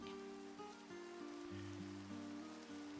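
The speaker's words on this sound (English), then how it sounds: "Of course it's raining." Steady rain falls during a Minecraft Create mod playthrough, a soft continuous patter heard under low droning game music, with no talk.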